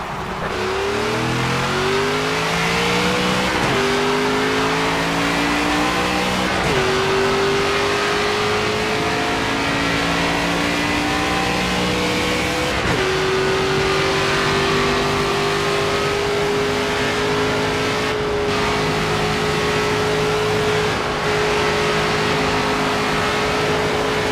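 A NASCAR race car engine in the NASCAR 25 video game revs loud and continuous on track, climbing through several gear shifts before settling into a sustained high-pitched drone with no talk.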